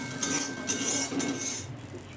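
Garlic is stirred without oil in a dry, very hot wok, giving faint, close metallic clinks and scrapes of the spatula against the pan in a quick, uneven rhythm.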